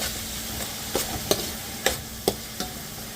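Thyme, onion, garlic and green peppers cooking in a pan: a continuous close sizzle broken by several sharp scrapes and clacks of stirring at irregular intervals.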